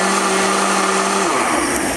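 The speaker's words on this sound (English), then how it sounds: "So now we've got our blender here, we've got the caramel in the pan. We're going to give this a quick spin again." A blender gives a quick spin to flan mixture for an Instant Pot flan, a steady loud whirring motor drone that fills the whole stretch and shifts pitch partway through, with no talking.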